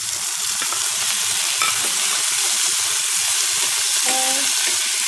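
Tomatoes hit a pan of frying onions and potatoes and set off a loud, dense, continuous sizzle that stays steady throughout, with no talking.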